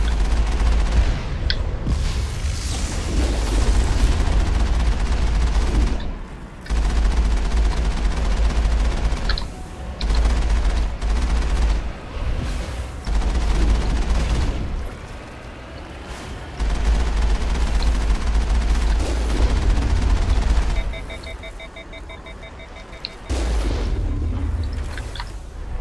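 Gunfire in an Obsidian video game similar to Mass Effect: loud repeated booms and rapid volleys of shots come in bursts separated by brief quieter gaps, with no talking.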